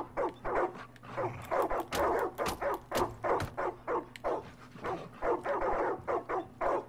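Dogs in Far Cry 5 keep up a long, busy run of barking and whimpering, dozens of overlapping yelps in steady close succession with a low game hum beneath.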